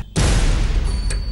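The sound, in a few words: firecrackers bursting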